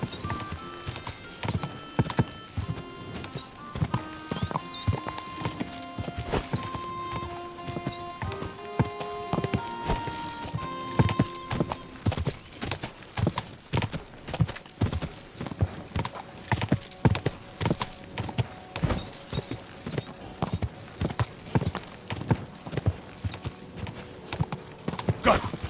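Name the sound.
horse galloping, from video game Kingdom Come Deliverance II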